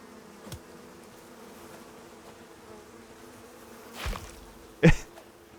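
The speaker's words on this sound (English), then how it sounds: "There's more bees!" Bees buzz in the survival game Icarus, a faint steady drone with a few louder close passes of buzzing near the end, no talk over it.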